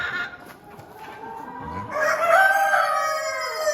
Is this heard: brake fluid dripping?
no